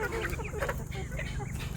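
Hens and a rooster clucking at a poultry farm selling talang hens and roosters, several close, overlapping clucks and short calls in quick irregular succession over a low background hum.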